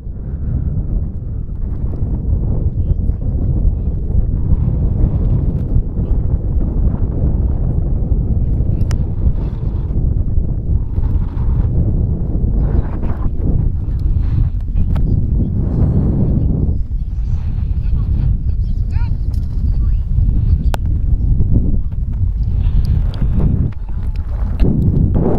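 Strong, steady wind roars across the microphone at an outdoor F5J electric glider competition in Osnabrück, Germany, a loud continuous low rumble for the whole stretch with only faint traces of other sound.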